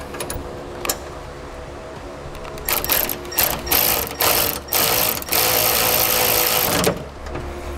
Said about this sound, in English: we'll take an 11 millimeter socket and wrench and we'll tighten their nut and bolt down